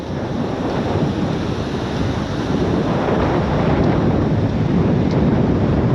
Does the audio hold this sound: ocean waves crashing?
yes